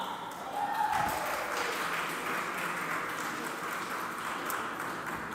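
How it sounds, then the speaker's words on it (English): Crowd applause for Canadian tennis player Nikki Todd at a women's challenger tournament quarterfinal, a steady wash of clapping from the stands lasting several seconds. "I would like everyone to please give a round of applause for Canada's own"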